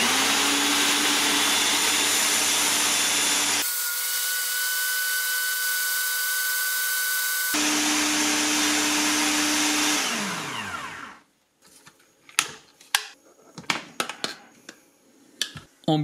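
An AICOK blender-mixer whirs loudly and steadily, its motor pitch shifting as it runs in stretches, then winds down to a stop, followed by scattered clicks and knocks.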